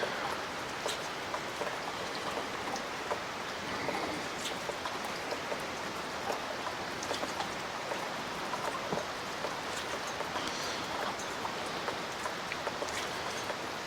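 Steady rain falls continuously, a dense even hiss with scattered droplet patter on surfaces, fairly close and without any talk over it.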